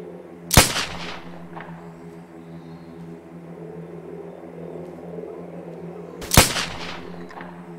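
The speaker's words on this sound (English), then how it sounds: "Two shots with the revolver and the guy's down." Two loud revolver gunshots in the video game Survive The Nights, about six seconds apart, each a sharp blast with a short decaying tail over a steady low ambient hum.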